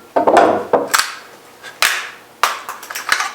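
Barrel coming off a Winchester SX4 semi-automatic shotgun: a run of sharp metallic clacks and knocks with brief rattles between them, close and fairly loud, with no talking.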